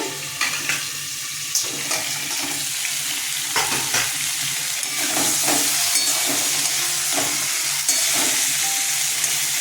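Cauliflower florets frying in oil for a cauliflower dalna, a steady sizzle with intermittent scraping stirs and clinks of a spatula against the pan, close and fairly loud, with no voices.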